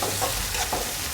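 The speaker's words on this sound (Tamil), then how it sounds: "இப்போ வந்து கடுகு போட்டாச்சு." Mustard seeds and onion fry in oil in a home kitchen, producing a short burst of close sizzling with light stirring scrapes and no voices.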